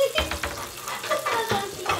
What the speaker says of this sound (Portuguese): Agora eu vou fritar.